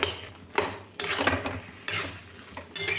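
A metal spatula presses and stirs boiled tomatoes in a pan for tomato chutney, making scraping, clattering strokes in four bursts separated by short pauses, close and moderately loud.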